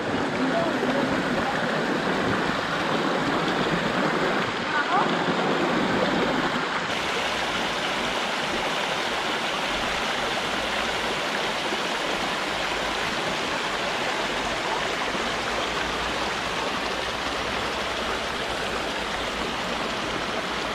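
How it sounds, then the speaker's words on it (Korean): A mountain valley stream rushes nearby with a constant, full broadband flow of water that stays steady from start to finish, with brief muffled voices early on. "와 계곡 물소리 진짜 시원하다."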